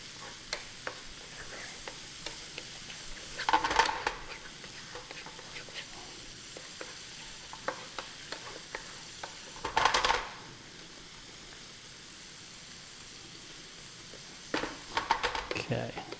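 Minced garlic sizzles and fries in a pan while salmon cakes are being made, a steady soft crackle broken by a few louder bursts of stirring and utensil scrapes.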